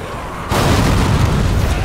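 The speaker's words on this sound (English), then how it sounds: "He ate that explosion, man." A sudden loud explosion in the video game Dead Rising 3, a broadband boom bursting in at once and rumbling on without fading over a quieter game background.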